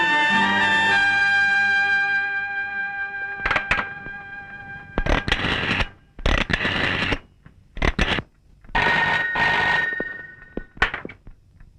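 A telephone rings with a long tonal, slightly distorted ring followed by bursts of repeated ringing, loud and close with short silent gaps between rings.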